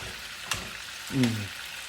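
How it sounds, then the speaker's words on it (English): Pork pieces browning in a pot sizzle in a steady, soft hiss, with a sharp tap midway and a short voice-like tone rising briefly near the end. "We have another big piece here that is browning."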